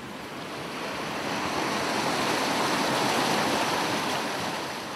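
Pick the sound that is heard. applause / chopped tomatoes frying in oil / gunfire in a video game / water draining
water draining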